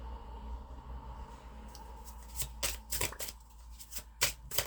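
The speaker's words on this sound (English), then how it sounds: "Let's just get one more card here." A tarot deck is handled during a pick-a-card reading as one more card is drawn. Quiet room tone gives way to a burst of crisp, papery card flicks and slides in the second half, close and without speech.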